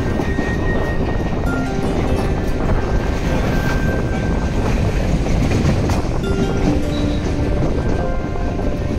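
A train rolls into Basirhat station in North 24 Parganas, West Bengal, with loud continuous rumbling and clattering wheels, faint squeals and a hum, heard close for about nine seconds.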